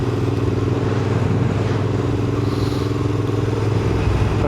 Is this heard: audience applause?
no